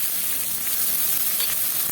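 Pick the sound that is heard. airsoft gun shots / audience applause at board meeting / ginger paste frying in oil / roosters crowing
ginger paste frying in oil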